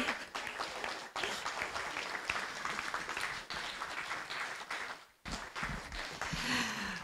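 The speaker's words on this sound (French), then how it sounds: "On applaudit très fort" Audience at a conference colloquium breaking into sustained applause, dense clapping from a large crowd with a brief dip before it swells again.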